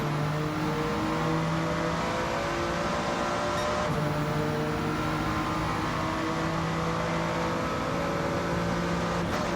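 A race car engine drones steadily in a sim racing game during a WTCC round at Lago Maggiore East, a dense continuous roar with sustained tones and small shifts in pitch as the car works through corners.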